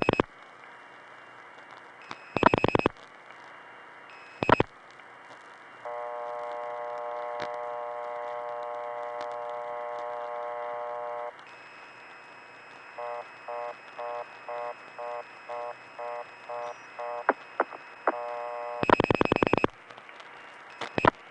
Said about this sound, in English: I'll hold on and let its dial tone time out to the reorder, which comes back to the dial tone.